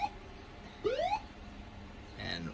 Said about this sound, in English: let's just turn on the outdoor horn speakers for the fun of it